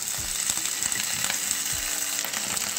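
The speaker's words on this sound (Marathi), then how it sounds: "आता मी इथे पॅन मध्ये थोडं तेल टाकून घेतलेलं आहे। आता जे कढीपत्त्याची पानं आपण धुवून ठेवलेली होती ही आपल्याला यात टाकायची आहे" Washed curry leaves dropped into hot oil in a pan, a steady soft sizzle and crackle of frying with a few scraping stirs, fairly quiet and close, with no talking.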